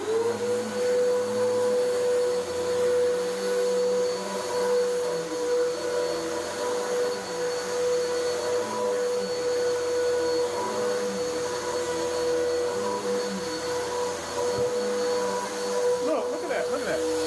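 A vacuum cleaner pre-vacuums a house carpet with lots of dry soil, giving a loud, continuous droning whine that runs unbroken from start to finish.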